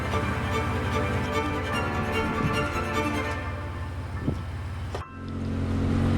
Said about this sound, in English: So we're back at the vehicle, making our way to the top again.